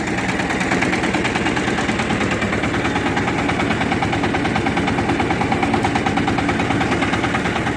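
Red Shifeng 350L tractor engine running steadily while plowing in autumn with the plow lowered and first gear engaged, a loud continuous rhythmic diesel chug with no talk over it.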